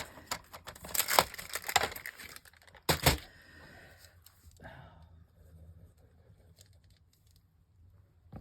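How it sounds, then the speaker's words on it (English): A paper trimmer cutting a straight line on craft paper, a few crisp close snapping and sliding cuts in the first few seconds, then quieter faint handling noise. "I'm going to take out the trimmer because this needs to be a straight line"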